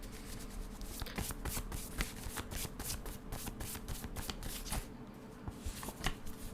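Tarot cards are riffled and shuffled by hand in rapid, crisp bursts of flicking and snapping, close and fairly quiet, with no voice over them.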